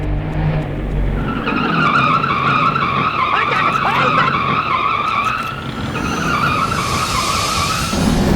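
A truck brakes hard and its tires skid in a long, loud squeal that warbles over a rumbling engine for several seconds before easing off.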